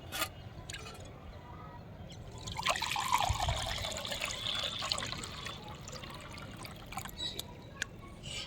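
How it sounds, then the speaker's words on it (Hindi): Water poured from a container into pots for watering plants, a steady splashing trickle that swells in the middle and continues with small drips, close by and without talk. "और अब मैं जल्दी से इनमें पानी डाल देती हूँ।"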